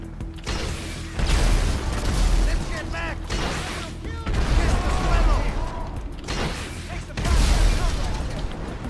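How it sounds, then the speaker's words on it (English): Rocket launcher fire and explosions in GTA Online: repeated heavy booms with deep rumbling bursts roughly every few seconds, mixed with mechanical clatter and a voice talking over the action. "pull out my rocket launcher"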